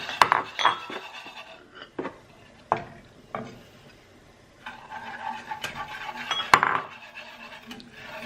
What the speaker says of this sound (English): Whisk that until the sugars are incorporated